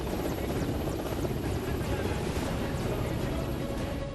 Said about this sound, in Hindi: नो फ्लाइंग जोन में छत पर मंडराता सेना का Mi-17 हेलीकॉप्टर